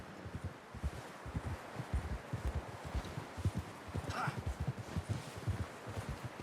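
Horse hooves clip-clop steadily at a walking pace in the Red Dead Redemption 2 video game, a dense, fairly close rhythm of soft thuds running throughout over faint rustling.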